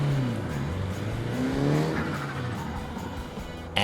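A Mitsubishi Eclipse DSM on new coilover suspension launches at 4,500 RPM, its engine roaring and rising in a short, loud burst with tire noise, no talking.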